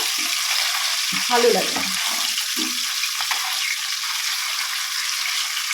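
Hilsa fish frying lightly in a pan gives a steady, close sizzle that hisses evenly throughout, with a voice briefly speaking over it.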